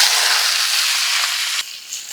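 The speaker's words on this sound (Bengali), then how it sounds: "কড়াইতে অল্প করে তেল দিচ্ছি আলুগুলোকে হালকা করে ভেজে নেব" Potatoes fry in mustard oil in a kadai for aloo dum, a loud, dense close hiss and sizzle that suddenly drops to a quieter crackle near the end.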